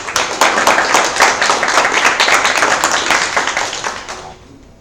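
An audience at a women's health hack night claps in a steady burst of applause that holds strong for several seconds, then quickly dies away.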